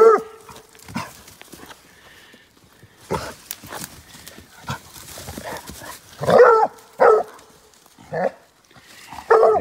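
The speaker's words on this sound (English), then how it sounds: "They like to bay up the puppies in the bushes." Young cat and bear hound puppies bay and yelp from the bushes in short, loud bursts, with bigger bursts near the end and quieter yips and rustling between them.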